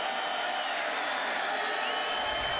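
A football stadium crowd at a UFL game, Florida at Las Vegas, roars as a steady, distant wash of cheering and noise with no clear break.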